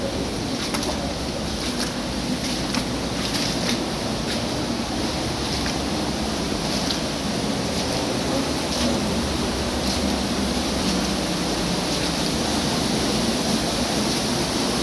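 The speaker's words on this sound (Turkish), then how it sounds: "kaya arasındaki şelale" Waterfall tumbling between rocks, a steady loud rushing roar of water with no talk, constant throughout.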